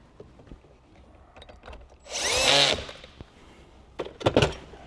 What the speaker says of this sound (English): Don't forget to screw the 10mm bolt back on there.